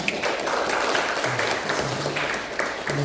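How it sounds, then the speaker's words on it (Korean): A church congregation claps for mentoring course graduates during a Parents' Sunday service, with a brief, dense burst of applause close by and faint voices underneath. "역시 박수해 주시기 바랍니다"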